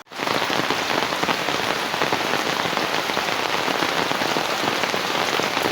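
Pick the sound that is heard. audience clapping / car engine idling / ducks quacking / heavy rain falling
heavy rain falling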